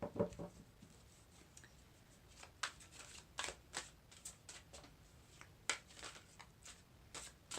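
Quiet, crisp tarot card shuffling in short irregular bursts, soft riffles and flicks close up with no talking.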